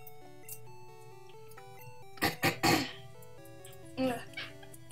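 Someone clearing their throat and coughing over chiptune game music from Pokemon Green, two quick harsh rasps followed by a longer burst, then another rough throat sound, close and brief.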